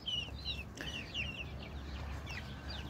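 Chicks let outside chirp in high, repeated peeps while a hen clucks, close and fairly faint over a low outdoor rumble.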